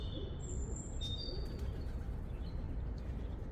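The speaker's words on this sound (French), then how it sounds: "Écoutez les chants d'oiseaux, comment c'est." Birds sing in the morning in a garden, chirping and whistling faintly over a steady low outdoor rumble, a few thin calls coming and going, distant and calm.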